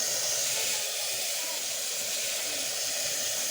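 Red lentils sizzling in hot oil in a pan, a steady loud hiss that holds evenly throughout with no pauses.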